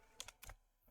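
A few quick, faint keystrokes on a computer keyboard, soft clicks in a short burst of about four taps.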